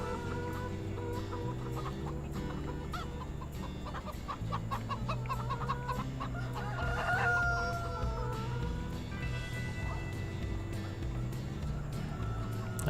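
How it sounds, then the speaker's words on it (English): Chickens cluck and a rooster crows in the Farming Simulator 17 video game, layered over steady low machine and ambient game noise at moderate, fairly constant level. "Chickens! Hey, chickens."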